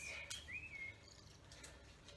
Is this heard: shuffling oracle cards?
no